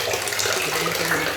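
Tank water pours steadily from a tap during a hot afternoon, a close, continuous broadband splashing rush with no pauses.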